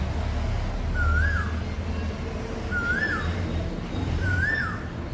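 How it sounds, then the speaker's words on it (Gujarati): An Asian koel sings in late morning with three evenly spaced rising whistled calls over a low background hum, moderately near and clear. "એટલી મસ્ત કોયલ બોલે છે"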